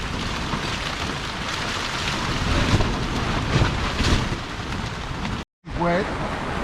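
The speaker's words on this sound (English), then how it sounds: "The storm was only supposed to last 10 minutes, so Woodsy says." Steady heavy rain drums on a tarp during a night storm at a fishing camp at Streaky Bay, with rumbles of thunder and wind gusts throughout, cutting out briefly near the end before resuming.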